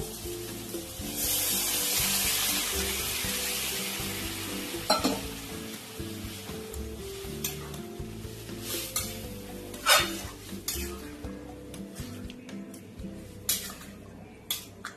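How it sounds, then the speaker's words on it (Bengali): Boiled lentils go into a pan of fried spice paste, bringing a burst of sizzling followed by ongoing stirring, scraping and intermittent utensil clinks against the pan, close and moderately loud. "এবার আমি সেদ্ধ করে রাখা তরকার ডালটা দিয়ে দেবো।"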